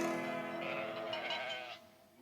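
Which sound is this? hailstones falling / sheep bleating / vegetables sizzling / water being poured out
sheep bleating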